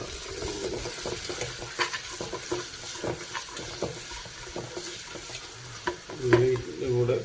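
Finely chopped onion frying with ginger and garlic for a yoghurt chicken curry, a steady close sizzle with repeated stirring scrapes and a louder clatter near the end, no talk.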